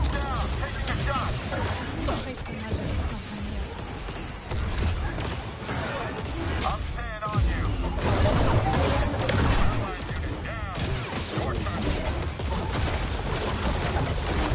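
Gunfire and blaster volleys from the Star Wars Jedi Survivor video game during a boss battle, dense continuous bursts with crashes and explosions mixed with voices and music throughout.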